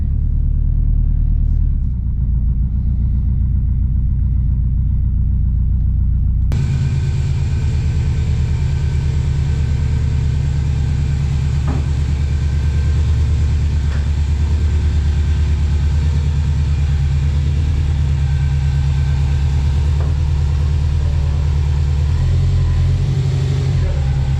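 Deep, steady engine rumble from a Subaru Forester XT running on a dyno, with a raspy exhaust note underneath from an exhaust leak; no talking.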